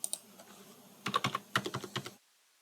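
Keys clatter on a computer keyboard as an online application form is filled in, two quick taps followed by a close, uneven burst of about a dozen keystrokes, then quiet.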